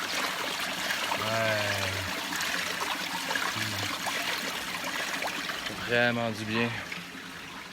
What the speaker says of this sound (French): Petite source d'eau. Je sais pas si on la voit bien. Ah, on la voit, en tout cas on l'entend, c'est sûr, là.